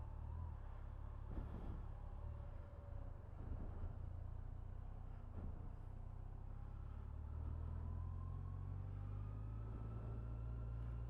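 2013 Yamaha FJR1300A motorcycle accelerating smoothly on a test ride, a steady low engine drone with a slowly rising tone beneath wind rush, heard from the rider's position.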